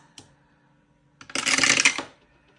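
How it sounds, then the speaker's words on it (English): Several dice are shaken and tumbled onto a surface in one quick clattering burst of hard, rattling clicks lasting under a second, preceded by a single faint tap, with no voices. "And let's roll our dice."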